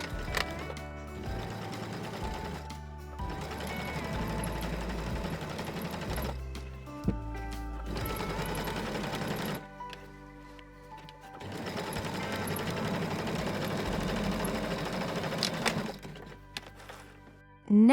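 A sewing machine stitches a pocket onto a tote bag in long, steady runs of rapid mechanical whirring, broken by short pauses and a few thunks, with no talking.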